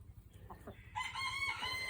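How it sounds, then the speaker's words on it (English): A Polish chicken rooster crows once, fairly faint and at a distance, following a few soft clucks. "Smog is the head rooster out here"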